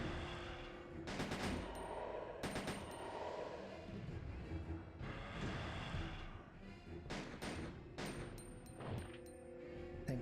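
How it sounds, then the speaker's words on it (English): Gunfire from Ada in Resident Evil 2 (1998), a series of loud sharp shots in irregular bursts over a dense, rumbling game soundscape, no talk. "I think that's Ada shooting at it as well."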